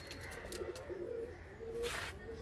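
Sialkoti pigeons coo in soft, repeated low notes against a steady background hum, with a few faint higher chirps mixed in. No one speaks.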